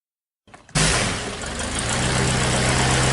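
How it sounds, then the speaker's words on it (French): After a moment of silence, a light aircraft engine catches and roars into a loud, steady drone close by at an aero club in Luchon. "le pilote a mis le moteur en marche"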